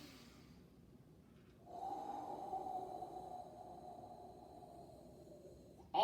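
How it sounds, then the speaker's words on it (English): A forceful Ibuki breath exhale, like fogging a window, comes as one long breathy, throaty rush of air lasting about four seconds, close and steady over a faint background. "It's called Ibuki breath."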